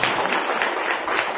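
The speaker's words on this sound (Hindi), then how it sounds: "ताली बजा के सब मिलकर परमेश्वर का धन्यवाद बोलो" Worshippers at a Baptist church join in clapping, a dense, continuous spatter of many hands held at an even level through a brief stretch, with no single voice standing out.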